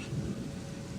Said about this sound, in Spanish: esta partida está maldita con la lluvia